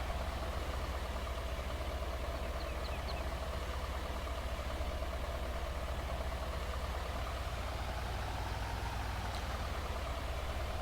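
A tractor engine idles in Farming Simulator 22, a steady low mechanical drone that holds at an even level throughout with no talk over it.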